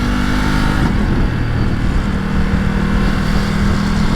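A Ducati Multistrada V4 Pikes Peak motorcycle rides through California traffic, its engine a loud, steady drone with a brief dip in pitch and a rising hum, heard close with wind rush and no talk.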